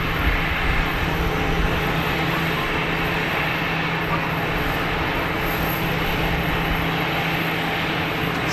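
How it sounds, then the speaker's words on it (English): Airbus airliner with CEO engines at Geneva Airport, a steady broadband jet roar that holds loud and constant throughout with a faint low hum beneath, no voices. "CEO engined Airbus."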